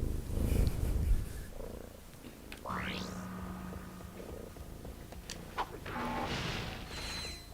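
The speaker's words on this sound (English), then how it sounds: "Hopefully the cat is not completely overpowering us." A cat purring right against a microphone gives a close, rumbling low drone with rubbing and scraping noises, layered over faint game sound effects.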